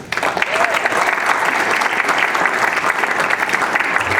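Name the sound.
audience applause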